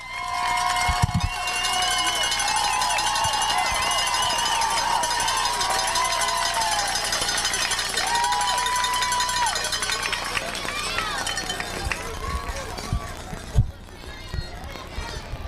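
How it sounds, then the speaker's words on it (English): The Newport home crowd at a high school football game against the Greyhounds keeps up a steady, dense roar throughout, with tonal noisemakers ringing through and a few sharper thumps near the end. "This is this Newport crowd."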